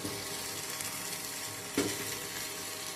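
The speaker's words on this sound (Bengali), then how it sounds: "পেঁপেগুলোকে আমি এখানে অ্যাড করে দিচ্ছি" Papaya pieces drop into spicy mutton frying in a pan, giving a steady close hiss and sizzle with a brief louder splash midway.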